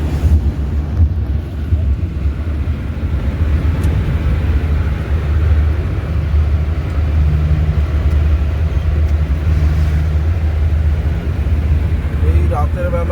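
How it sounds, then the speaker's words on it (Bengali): Alto K10 car cruising at 100 on the Raiganj bypass at night, a steady loud low engine and road drone with wind rush, unbroken throughout. "গাড়ির স্পিড আমাদের চলছে এখন 100, অল্টো K10"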